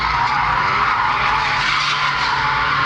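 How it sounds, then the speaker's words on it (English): Mazda Miata drifting at a track day, tires skidding and squealing continuously under a loud, steady engine roar close by, with no talking. "But yes, I'm drifting"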